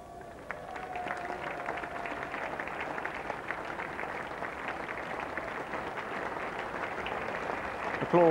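Spectators applauding at a 1995 England versus West Indies Test cricket match, a steady wash of distant clapping from the whole ground lasting several seconds, with no talk over it.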